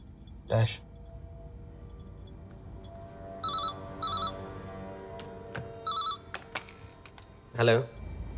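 A telephone rings in several short electronic bursts against a quiet room, with a few clicks and brief voice-like sounds between rings.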